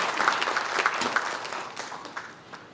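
Audience applause at a Korean policy conference on the Fourth Industrial Revolution master plan, a steady wash of clapping from a seated hall that gradually fades toward the end.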